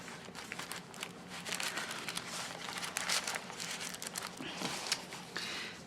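Clear plastic envelope in a handmade traveler's notebook journal crinkling and rustling steadily as it is handled and flipped, close up, with no talking.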